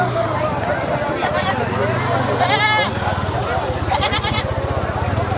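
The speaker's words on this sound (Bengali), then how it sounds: "এখানে বিভিন্ন ধরনের খাসি, ভেড়া, রাম ছাগল, সব ধরনের ছাগলই পাওয়া যায়, দেখতেই পাচ্ছেন।" Goats and sheep bleat at a busy livestock market, with a couple of distinct quavering bleats rising above constant crowd chatter and a low engine rumble.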